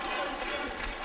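A boxing arena crowd in a match between Astana Arlans and Uzbek Tigers cheers and roars in a dense, loud mass of voices, a brief surge of encouragement for a fighter, with a commentator's voice woven through.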